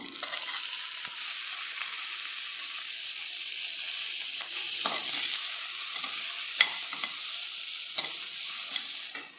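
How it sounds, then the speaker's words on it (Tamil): Grated coconut sautés and is stirred in a pan with cooked aromatics, a steady sizzle with scattered scraping stirs of the spoon throughout. "ஒரு 2 நிமிஷம் நல்லா வதக்கிக்கோங்க. இப்போ இந்த தேங்காய் சேர்த்துக்கலாம்."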